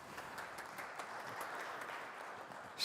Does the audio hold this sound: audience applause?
yes